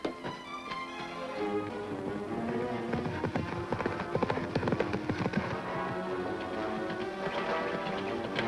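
Horse hooves clip-clop steadily on hard ground as a horse is ridden with two riders aboard, a continuous rhythmic clatter over a busy musical background.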